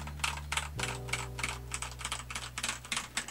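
Rapid, clicky keystrokes on an Azio Cascade98 mechanical keyboard with Gateron Pro switches, close and fairly quiet, with a low hum in the background.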